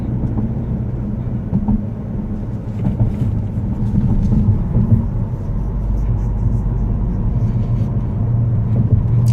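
A Cord car driven with a stick shift gives a steady, close low engine rumble through gear changes, swelling slightly partway through and running continuously with no clear talk.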